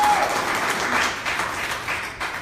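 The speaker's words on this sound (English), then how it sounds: "give him a round of applause" Audience applause at a political gathering at Franco's Little Italy on the Eastern Shore, a dense, steady wash of many hands clapping that carries on loudly throughout with no voices over it.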